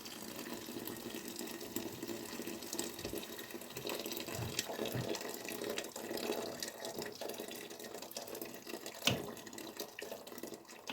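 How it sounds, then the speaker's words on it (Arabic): Hot boiled water is poured over barley grits in a steady, soft, continuous rush, fairly quiet and alone, with a small splash near the end. "نكب عليها الماء طايب ونخليها طيب على خاطرها"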